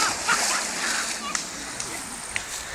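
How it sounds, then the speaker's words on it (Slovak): A body plunges into outdoor water with a splash, and sloshing and splattering follow amid broadband water noise. Voices are heard in the background. "Chlapci sa akurát radujú, lebo videli Paľa, ako vystrelil do vody."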